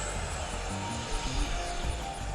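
A Horizon Hobby F-16 RC jet flies overhead with a broad, rushing ducted-fan roar that swells slightly and echoes, heard continuously at moderate loudness without talk.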